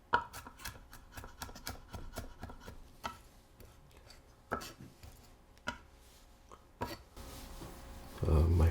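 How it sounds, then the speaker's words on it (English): Food grated on a Microplane grater into a fine paste while cooking a beef stew: close, rhythmic rasping strokes with sharp scrapes and knocks, under intermittent talk. "Microplane grater is actually a great choice for this. Just turn it right into a paste."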